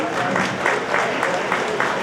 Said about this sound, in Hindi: हम अभिभूत हैं, तालियों से स्वागत कीजिए।